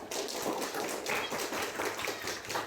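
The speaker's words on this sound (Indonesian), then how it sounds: "Tepuk tangan untuk si Paro." A classroom of pupils claps together to reward a pupil who answered correctly, a steady dense patter of many small hands lasting throughout, fairly close.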